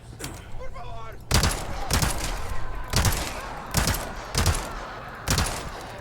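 Bursts from an LE5 light machine gun firing at long range in the Resident Evil 4 Remake video game, five loud sharp volleys spaced about a second apart, with a voice talking early and under the shots.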